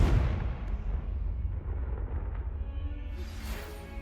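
A Confringo blasting spell explodes in the Hogwarts Legacy video game: a heavy, rumbling low boom hits at once and then rolls and fades over a few seconds, followed by a faint rising whoosh near the end.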